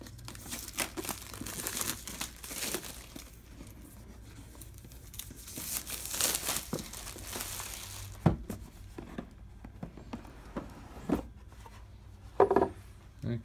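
Cardboard and plastic crinkling and tearing as an Ethnos board game box is opened, with scattered rustles, a few sharper handling knocks, and near, moderately quiet sound alone without talk.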